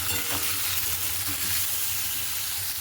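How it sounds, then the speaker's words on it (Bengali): Steady, close sizzling of beans, carrots and potatoes frying in a pan, a continuous crackle with occasional stirring, no voices. "এদিকে বিনস গাজর আর আলুটা ভাজাভুজি করছি"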